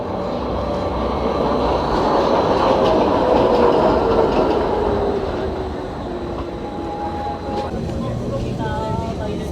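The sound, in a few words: train ride on the Gornergrat railway, Zermatt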